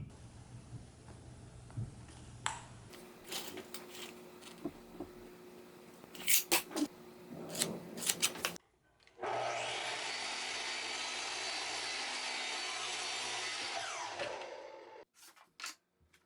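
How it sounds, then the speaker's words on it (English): A miter saw cuts a wooden board for a birdhouse, a loud sustained whine of roughly five seconds rising after scattered workshop knocks and handling sounds, then cutting off near the end. "Now I used a miter saw to cut all my boards out of convenience"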